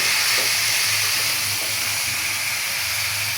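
Raw cauliflower and carrot dropped into a hot pan for singara filling, giving a steady close-up sizzle and hiss that runs evenly throughout with no talk.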